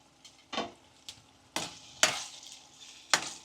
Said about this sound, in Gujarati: પછી બધું મિક્સ કરી લેવાનું.